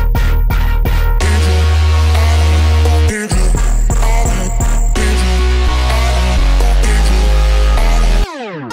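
Heavy electronic bass layered with an ambience pitched a semitone down pounds in a dense, loud drop with rhythmic stabs, sustained low tones and a brief break before cutting off near the end.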